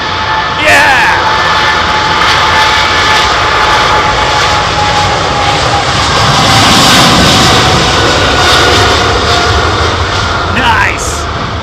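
A jet airliner at London Heathrow Airport roars loudly and steadily with a sustained engine whine, while people talk over it.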